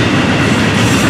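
Florida East Coast Railway freight train 105 with stack cars passes close by on an evening run, a loud continuous rumble with rhythmic clickety-clack of wheels over rail joints throughout.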